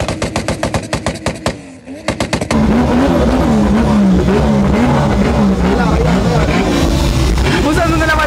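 A powerful car revs hard at the Liwa festival, opening with rapid stuttering backfire-like pops before breaking into a loud, sustained roaring engine with rising and falling pitch, close and dominant throughout.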